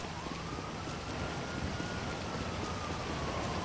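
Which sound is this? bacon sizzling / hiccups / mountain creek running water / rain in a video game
rain in a video game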